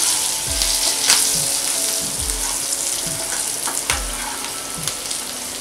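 Potatoes are stirred into spices and slit green chilies frying in a pan, a constant close sizzle broken by regular scraping strokes about once a second, with no talking.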